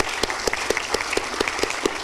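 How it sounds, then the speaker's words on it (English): A council-meeting audience applauds four volunteer groups, steady clapping from a room of people with sharp individual claps standing out above the wash, continuous for about two seconds. "Please, a round of applause for these 4 groups."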